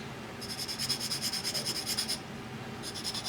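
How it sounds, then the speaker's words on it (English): Sanding sticks rub back and forth along the edges of a small model seat part, a close, soft rasping in a steady stroke rhythm that pauses briefly before resuming. "we're just going to take our sanding sticks here, kind of clean up the edges"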